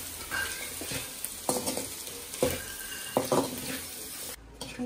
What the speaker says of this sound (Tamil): இப்போ நம்ம கேப்சிகம் ஆட் பண்ணிக்கலாம் எல்லாத்தையும் நல்லா mix பண்ணிக்கலாம்